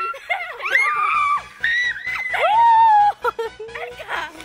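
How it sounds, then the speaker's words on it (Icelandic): A person screaming in several loud, close, sliding shrieks that rise and fall in pitch, with brief laughter and chatter mixed between them and a steady rhythmic beat underneath. "Hvernig öskraði þú?"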